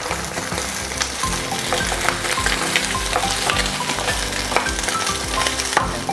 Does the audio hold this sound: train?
no